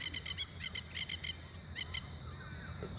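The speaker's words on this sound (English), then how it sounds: "Those are masked lapwings calling." Masked lapwings give bursts of sharp, rapid chattering calls, several volleys in quick succession, fairly close and loud, then a short pause.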